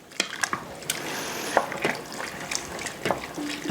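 A spoon stirs a mixture with onion powder in an Instant Pot, giving a string of short wet scrapes and clinks with irregular spacing, close and moderately loud, with no talking.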